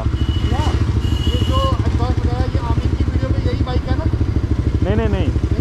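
A motorcycle engine idles with a loud, steady, pulsing exhaust throb close by, while voices talk over it.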